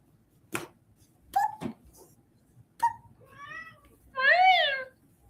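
A pet cat meows indoors, a few short separate cries followed by longer, rising and falling wails, close and fairly loud against a quiet room with faint background murmur.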